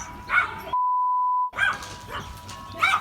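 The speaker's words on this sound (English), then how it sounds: "Hey, stop barking." A dog barks in short, sharp bursts, close and fairly loud, broken by a steady electronic beep tone in the middle.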